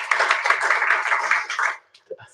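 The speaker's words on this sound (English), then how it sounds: "give him a second round of applause" A talk audience claps for a speaker after his first big talk, a dense burst of handclaps that runs steadily and then cuts off sharply, followed by near silence and a couple of faint sounds.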